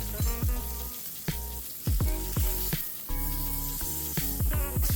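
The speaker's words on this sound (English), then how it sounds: "Now in a ripping pan like this, you're only going to be leaving the steak down for 1 to 2 minutes per side." A steak sears in a very hot pan while a spoon bastes it with garlic and herb butter, giving a loud close sizzle broken by repeated metallic clinks of the spoon against the pan.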